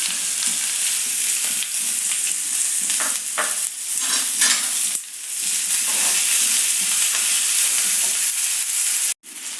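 Chopped small onions (shallots) fry in a pan for athalakkai poriyal, making a loud, steady crackling sizzle with stirring scrapes that surge in places, cutting off briefly near the end.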